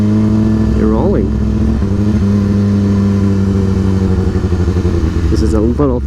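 A motorcycle engine idles loudly, then revs and pulls away from a standstill, its pitch climbing through gear changes with rising and falling whines, close and steady with a speaking voice over the top.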